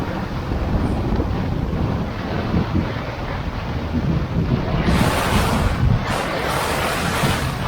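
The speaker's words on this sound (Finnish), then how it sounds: "Ja älyttömiä tuulepuuskia kyllä." Strong wind gusts buffet the microphone in open Finnish wilderness at Kaldoaivi, a loud continuous roar that swells further in the second half, with no voices.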